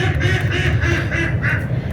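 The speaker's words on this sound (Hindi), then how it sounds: "बतखें भी बहुत शोर करती हैं" Ducks quacking loudly in a steady, busy chorus, several birds calling over one another with a rhythmic pulse and low background rumble.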